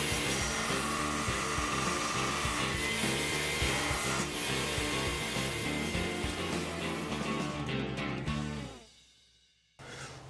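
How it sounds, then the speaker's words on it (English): Bench grinder tapering the clip edges of a horse sneaker shoe, a steady loud abrasive grinding and rubbing that runs continuously, then fades and cuts out briefly near the end before resuming. "I just taper the clip edges on the grinder"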